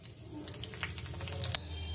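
Dried chilli, bay leaf and panch phoron spices sizzle in hot oil in a kadai, left from frying a fish head, a continuous crackling fry with small pops and a faint scrape partway through, close and steady without speech.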